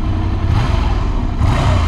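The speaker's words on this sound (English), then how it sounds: "I like how muted the engine sounds." A 2017 Ducati Monster 797 motorcycle engine runs with a low, muted, steady drone, loud and close, with a slight rise in pitch near the end.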